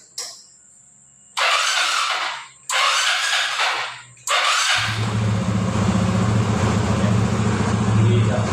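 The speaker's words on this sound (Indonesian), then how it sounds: "Jadi rangsam kembali normal ketika injektor dibersihkan. Kita coba sekali lagi." A Yamaha Xeon motorcycle engine after its fuel injector was cleaned: three short revving bursts from close by, then a steady low idle that carries on to the end.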